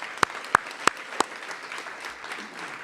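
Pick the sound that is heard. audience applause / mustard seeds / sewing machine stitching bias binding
audience applause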